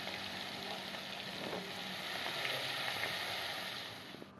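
Katla fish frying in a pan on one burner of a stove, a steady, even sizzle and crackle of hot oil that swells slightly midway and continues without voices, close and moderately loud.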